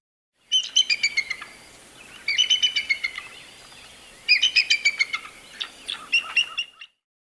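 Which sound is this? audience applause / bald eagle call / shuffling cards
bald eagle call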